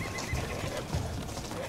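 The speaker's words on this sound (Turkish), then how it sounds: "Bu nöbetçi atlar da kim? Bizim nöbetçi atlardan değildirler." Horses whinny and neigh in an outdoor period-drama setting, with a couple of bursts rising over low hoof clopping and rustling. The sounds are moderately close and no one talks.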